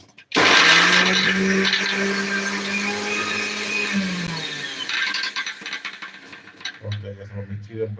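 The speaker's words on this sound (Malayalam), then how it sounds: "അപ്പോൾ മിക്സി ഇട്ടുന്ന ചതച്ചെടുക്കാം" A mixer grinder crushing shallots roars loudly for about four seconds, whirring and rattling, then winds down and stops, followed by clattering and a voice speaking.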